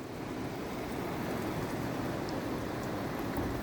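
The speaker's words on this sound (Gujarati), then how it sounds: "તો ગાઈઝ વરસાદ શરૂ થઈ ગયો છે." Steady rain falls outdoors in Modasa, an even broadband patter and hiss with no breaks, moderately loud and without any voices.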